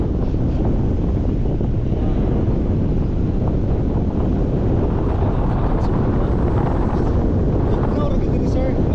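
Strong wind buffets the microphone in a loud, constant roar while paragliding over Lake Sebu in South Cotabato, a dense rushing noise with no letup throughout.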